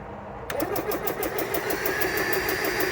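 A small pump engine kicks in and runs loudly, with a fast, even rhythmic chugging and a faint whine above it.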